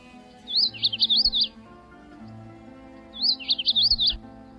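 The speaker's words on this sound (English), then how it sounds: "Male magnolia warblers have been described as having two songs, one in courtship and around the nest" A magnolia warbler sings two short, bright, warbled phrases about three seconds apart, clear and near over a quiet background with a faint low hum.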